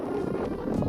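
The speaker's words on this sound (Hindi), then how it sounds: "ज़बरदस्त किस्म की हवा चल रही है" Strong wind blows by the mighty Indus river, a steady close rumbling buffet against the microphone with fluttering low roar and no speech.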